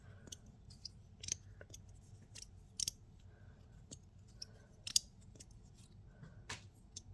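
An ImpulseToyDesigns Glow Derby fidget slider gives quiet, close swishes with soft scattered clicks at an irregular pace, alone with no talking.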